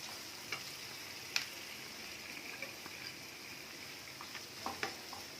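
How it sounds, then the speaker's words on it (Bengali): Chopped onions and green chillies fry in hot oil with a quiet, steady sizzle, broken by scattered soft clicks and taps from a utensil in the pan. "কিছুটা আমি পেঁয়াজ আর কাঁচা লঙ্কা কেটে নিয়েছি, সেটা এখন তেলের মধ্যে দিয়ে দিলাম।"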